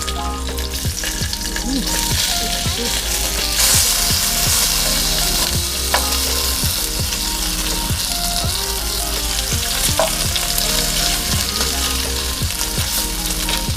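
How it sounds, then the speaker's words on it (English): Bacon sizzling steadily in a pan for a breakfast sandwich, a loud, constant crackle close by with regular ticking pops and an occasional scrape, and no talking. "so I gotta put this bacon down"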